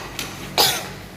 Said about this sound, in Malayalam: ഭയങ്കര ചുമയാണ്